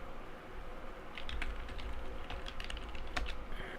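Commands being typed on a computer keyboard while configuring a network switch, with an irregular run of quick, close key clicks over steady room hum and no talking.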